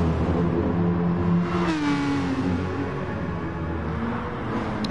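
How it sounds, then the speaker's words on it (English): Toyota TS040 endurance race car engine in a racing video game, a high revving whine that climbs and shifts pitch over a constant mechanical roar, loud and sustained with no talk. "TS040, his engine also screaming."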